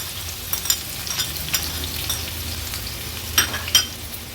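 A large chopped onion dropped into about three tablespoons of hot oil for tempering, a steady close sizzle with occasional light clinks of a spoon stirring, no talking.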